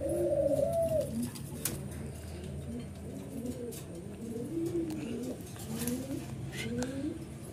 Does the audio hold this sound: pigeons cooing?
yes